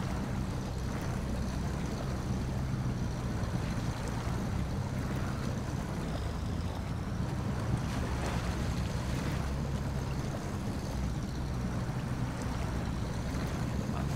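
Steady, even water rush from the SnowRunner off-road truck game, a continuous broadband wash like flowing river water with no talk over it.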